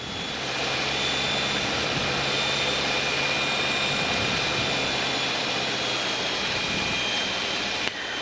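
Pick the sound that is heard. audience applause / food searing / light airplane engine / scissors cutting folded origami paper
light airplane engine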